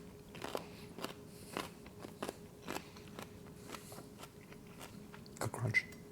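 Crusty homemade bread bowl bitten and chewed up close, a series of sharp crunches spaced irregularly over quiet, with one louder cluster of bites near the end.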